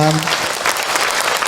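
A religious gathering's audience applauds Ustaz Hilman after his sermon, dense sustained clapping from many people filling the room, with a voice speaking briefly at the start.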